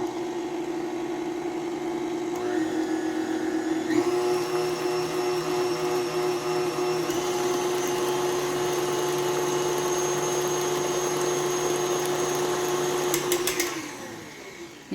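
An electric mixer beats creamy cheesecake batter after a teaspoon of vanilla is added, a steady motor whine that shifts pitch as speed changes, running continuously before winding down at the end.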